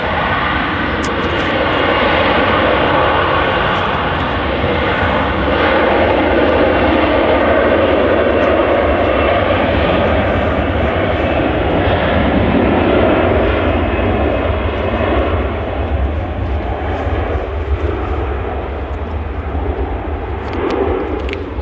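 A steady, loud roar from an airliner's engines fills the scene as it takes off from the runway at Manchester Airport, sustained and unbroken throughout.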